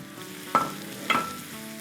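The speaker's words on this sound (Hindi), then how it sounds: "देखिए अच्छे से मिक्स कर लें" Ground spices (black pepper, garam masala, cumin powder and dried mango powder) fry in a karahi under a soft sizzle, with two distinct stirring scrapes close by.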